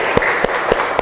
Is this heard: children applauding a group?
yes